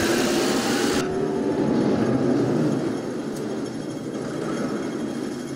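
A DAF SB250 bus in the OMSI 2 simulator drives with a loud, steady engine drone and road rumble, broadband hiss cutting off after a second while the low engine tone carries on.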